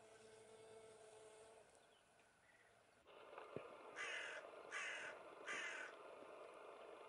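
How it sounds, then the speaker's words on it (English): A hooded crow caws from the edge of a wetland, three loud harsh calls in quick succession, each about half a second long, over a steady outdoor hum. "There are certain places in the world where this hooded crow can be seen."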